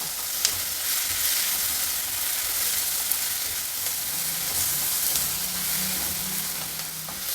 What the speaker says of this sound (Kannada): ಈಗ ಟೊಮೆಟೊ ಈರುಳ್ಳಿ ಒಂದು ಎರಡು ಮೂರು ನಿಮಿಷ ಫ್ರೈ ಮಾಡಾಗಿದೆ